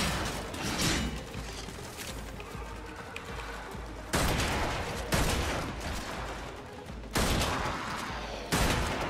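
Gunfire in the shooter game Warframe: dense, continuous bursts of shots with sharp louder blasts recurring every few seconds, a steady, noisy barrage throughout.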